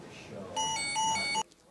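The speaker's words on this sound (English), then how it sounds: "It's the frickin' laser alarm." A laser security alarm goes off with a short, shrill electronic beeping pattern of a few tones lasting under a second, then stops abruptly amid quiet room noise.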